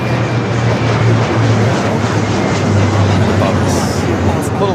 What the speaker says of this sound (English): Currently taking off United 2487 to 321neo.